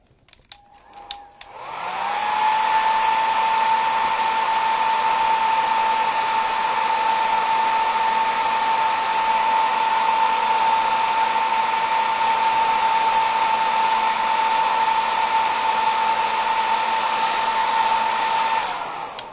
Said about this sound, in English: Let me get my blow dryer plugged in.